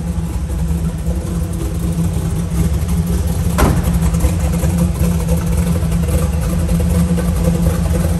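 A freshly rebuilt 1967 Chevrolet Camaro engine idles steadily up close with a low, even rumble, and a brief sharp click or knock comes partway through.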